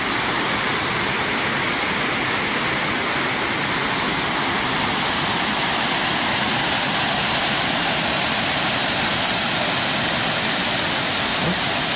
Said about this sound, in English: I believe this is the Big Raccoon Creek